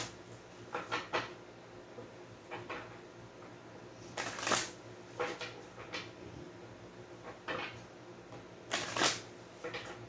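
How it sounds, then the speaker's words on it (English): Tarot cards being shuffled, with several brisk riffling bursts spaced irregularly across the stretch, fairly close and moderately loud over a quiet room background. "One more shuffle."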